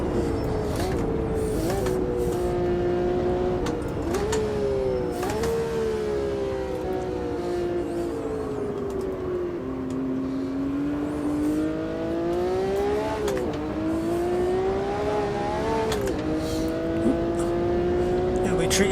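Race car in the Automobilista 2 sim racing game, its engine droning and rising and falling through gear changes for the whole stretch, with brief tire squeal as the back end slides around, loud and continuous with a voice talking over it.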